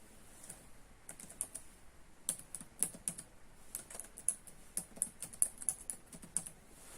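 A password is typed on a computer keyboard with quiet, irregular key clicks that come in quick clusters and short pauses, close and soft with no voices.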